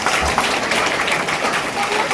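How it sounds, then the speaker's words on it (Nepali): A large seminar audience claps together in a sustained, dense burst of applause at a motivational training session in Nepal, with voices mixed into the clapping. "म चाहन्छु एक बार सबैजनाले जोरदार ताली लाउने"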